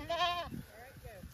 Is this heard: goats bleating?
yes